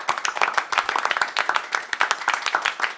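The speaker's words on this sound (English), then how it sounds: "Why am I the only one clapping?" One person claps quickly and steadily, a dense run of crisp, close hand claps lasting a few seconds with no other voices joining.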